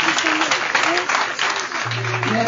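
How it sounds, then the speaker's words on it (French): A congregation applauds at a Sunday Catholic mass, a dense, steady clapping that fills the whole moment while a voice speaks over it. "On va les applaudir une fois encore."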